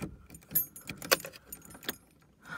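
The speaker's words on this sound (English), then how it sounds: "The keys have been here all these years and I just now pulled it out." Metal keys to an old 1989 Ford F-350 truck jangle and clink in short bursts as they are pulled out, a few bright close rattles over a quiet background.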